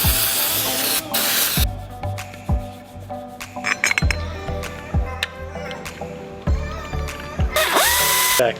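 A tool tightens bolts on a Nissan 350Z during a twin turbo install, giving bursts of rapid ratcheting and whirring with metallic clinks and short hissing sprays in between, close up in a garage.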